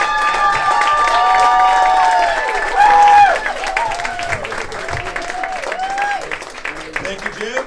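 An audience at a Milwaukee comedy college showcase breaks into applause and cheers, a dense burst of clapping with whoops that peaks briefly then tapers off.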